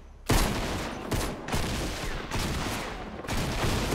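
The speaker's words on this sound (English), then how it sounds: "I can't hear when everyone's spamming their gun." Dense, continuous gunfire from several players at once in a prop hunt video game, a loud rattling barrage with brief drops before the shooting resumes.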